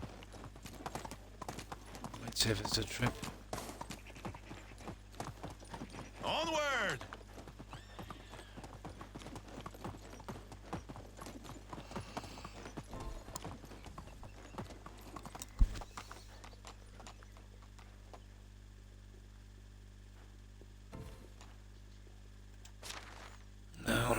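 Horse hooves clip-clop in the Medieval Dynasty video game, a run of uneven close thuds, with a neigh and someone talking over them before a quieter stretch.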